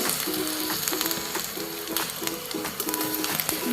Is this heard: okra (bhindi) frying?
yes